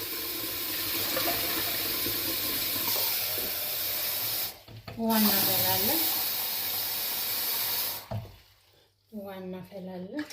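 Water poured into an empty iron pot set on a gas burner, a steady close splashing pour broken by short gaps, with a person talking over parts of it.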